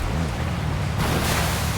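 A car in Forza Horizon plunges into water, a low engine drone that gives way to a broad, loud rushing splash midway through.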